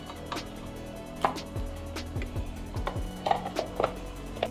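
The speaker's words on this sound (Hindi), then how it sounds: "थोड़ा सा प्याज ज्यादा पहले काट ले" A knife chops onion on a board in a string of sharp, uneven knocks, some quick and some spaced apart, close and fairly quiet over a low steady hum.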